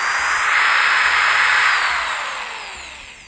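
A corded power drill fitted with a 6-inch hole saw whines loudly and steadily, its pitch climbing as the motor speeds up, then easing off toward the end.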